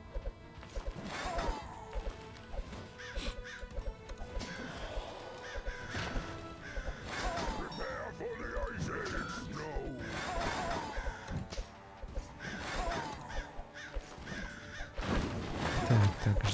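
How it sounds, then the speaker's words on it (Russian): In the tower defense game Kingdom Rush Vengeance, a crow caws several times amid game music, crashes and impact effects, with a voice heard at times. "здесь у нас ворон пошел"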